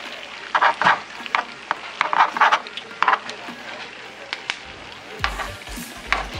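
Steak searing in a pan, a crackling sizzle with bursts of spatter and clattering as the meat is lifted and turned, close, with a voice talking in the background.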